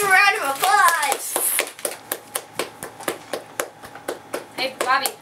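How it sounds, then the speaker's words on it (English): A few people clap at the end of a Cowball game for the Power Conference championship, after a stretch of talk. The sparse, separate hand claps go on for several seconds and a voice returns at the very end. "Everybody give a round of applause."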